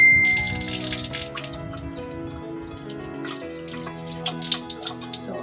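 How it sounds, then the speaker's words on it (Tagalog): Tap water runs and splashes in a sink while eggs are washed one at a time, with light clinks and dripping patter close by and no talking. "isa-isahin natin silang huhugasan"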